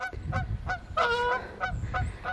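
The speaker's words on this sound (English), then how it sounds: "we have geese, of course" Several geese honk in repeated nasal calls, one bird louder and closer with a drawn-out call in the middle, over a low background rumble.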